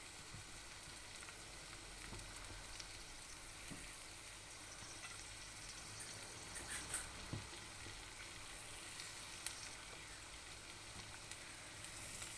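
Thin julienned carrots tossed into a pan of chicken and noodles, a steady quiet sizzle of stir-frying with occasional soft clicks and scrapes of stirring throughout.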